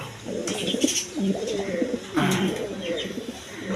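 Pigeons coo in a loft where breeding hens sit on eggs, low rolling coos repeating steadily through the clip at close range, with faint chirps and background rustle.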